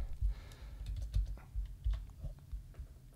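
Computer keyboard typing, a steady run of soft, close key taps with irregular rhythm, entering values into a software dialog, no speech.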